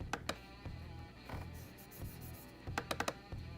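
Soft clicks of laptop keys being typed in short irregular bursts, quiet and close, with a faint background hum and no talking.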